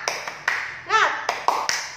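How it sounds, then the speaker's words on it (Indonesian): A fourth-grade primary school class in Indonesia performs the 'tepuk semangat' clap: several sharp, rhythmic group claps in a set pattern, with a bright chime-like ringing tone sounding once in the middle. "Ibu akan mengajak kalian untuk tepuk semangat."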